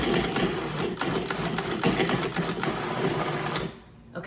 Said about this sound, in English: now they're in the food processor and I'm gonna give that a quick whir